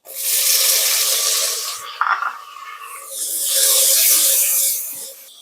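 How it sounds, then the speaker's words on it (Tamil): Water poured into a bowl of tamarind in a home kitchen while making Tamil fish curry, two loud sustained splashing pours separated by a brief clink and pause, close and alone. "புளி ஒரு 50 கிராம் கரைச்சி எடுத்துக்கிறோம் தண்ணி ஊற்றி."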